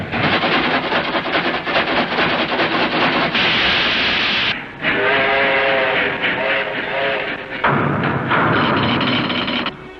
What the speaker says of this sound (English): And I put on the train record.